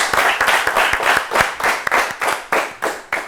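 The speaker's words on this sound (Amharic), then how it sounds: "አጨብጭቡላት በደንብ።" A studio audience at an Ethiopian children's television quiz show claps steadily, a close, loud run of rhythmic handclaps lasting a few seconds with no talking over it.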